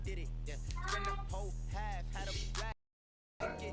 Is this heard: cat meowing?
yes